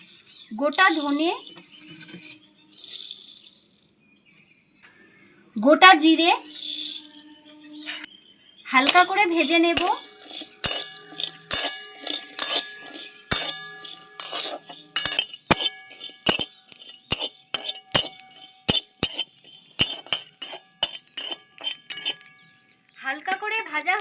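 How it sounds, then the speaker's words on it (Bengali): Whole garam masala spices and bay leaf frying in hot oil in a kadai, with sharp clinks and crackling pops that thicken into a busy patter of small sizzling bursts, broken by spoken narration early on. "কড়াইটা ভালো মতন গরম হয়ে গেছে মশলাগুলো এখন আমি ভেজে নেব গোটা গরম মশলা"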